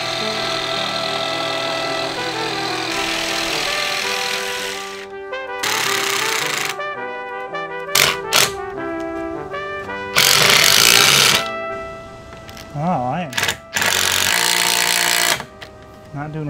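A power tool cutting the facing panel of a partition wall in a van build roars in several loud bursts separated by pauses, harsh and close, with clattering and a steady drone between the runs.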